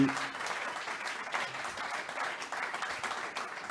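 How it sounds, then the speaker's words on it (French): An audience applauds a guest at a talk event, a steady, moderately distant wash of many hands clapping that continues evenly for the whole stretch. "On peut applaudir notre invité, Michael Saki."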